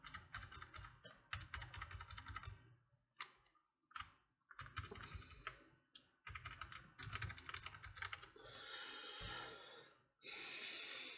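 Keys are pressed on a Razer Ornata Chroma keyboard in rapid clattering bursts, some dense and some sparse, separated by short silent pauses; the sound is close and crisp, with no talk.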